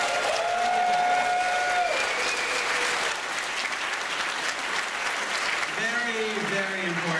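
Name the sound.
audience applause for game masters at PaizoCon banquet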